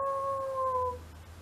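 A person imitates a werewolf howl, a sustained wavering vocal tone that holds steady for about a second, then trails off into quiet room noise with a low hum underneath.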